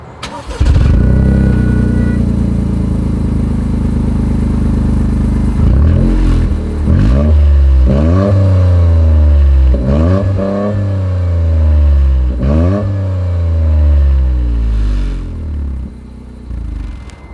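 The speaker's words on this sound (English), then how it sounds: "As always, here is that exhaust clip." A 2024 Toyota GR Corolla engine starts with a roar, then revs up and down repeatedly in sharp bursts, loud and close, with a rumbling triple exhaust between revs.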